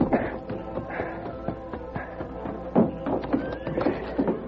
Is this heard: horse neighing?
yes